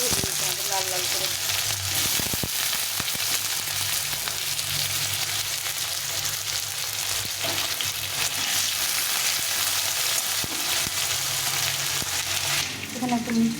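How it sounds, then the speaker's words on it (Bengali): Potatoes fry in hot oil for a fish roe curry, giving a continuous close sizzle with crackling bursts and a few stirring knocks throughout. "তো এই যে তেলটা গরম হয়ে গেছে, এখন আমি আলুটাকে ভেজে নেব।"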